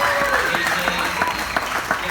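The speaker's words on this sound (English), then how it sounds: "one more round of applause for all the speakers tonight" Wedding guests applaud the speakers, a moderate patter of clapping with voices talking over it throughout.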